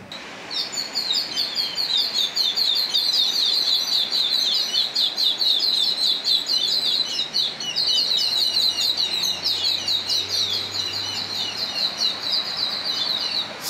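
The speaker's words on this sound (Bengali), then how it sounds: "শ্রীলঙ্কার ইল্লায় আজকে সকালটা প্রশান্তিতে ভরে গেল পাখির ডাকে।" Morning birdsong in Ella, Sri Lanka: many small birds chirp and trill in a dense, unbroken chorus, bright and fairly close, with no voices.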